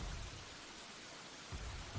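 Steady rain falling in a multiplayer video game match, a broad hiss of drops running throughout with no talk, low rumbling swells near the start and end.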